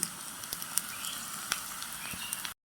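Miniature raw banana chips frying in hot oil give a steady close sizzle with faint crackling pops throughout, no voices.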